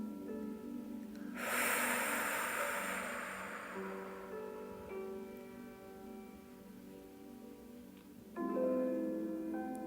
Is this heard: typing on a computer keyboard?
no